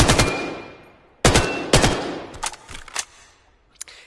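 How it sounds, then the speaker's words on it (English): High caliber gun firing in the VR game Vail, a few loud sharp shots spaced about half a second apart, each with a ringing tail, followed by lighter quieter clicks and thuds. "It's a high caliber, so it's more damage, but it's got more recoil."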